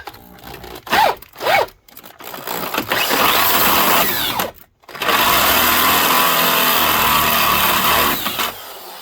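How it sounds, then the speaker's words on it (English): A heavy-duty half-inch electric drill whirs close by in a few short bursts, then runs in two long, steady, grinding stretches with a brief pause between, during F-150 rocker panel and cab corner removal. "I got a heavy duty 1/2 inch drill."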